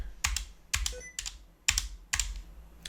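Fingers type on a computer keyboard in short clusters of crisp, close clicks, five separate bursts spaced roughly half a second apart with quiet gaps between them.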